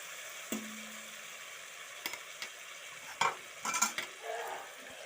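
Egg curry cooking in a pan is stirred now and then, giving a few scattered scrapes and clinks over a faint, steady background frying hiss.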